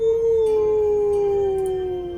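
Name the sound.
howl imitating a wolf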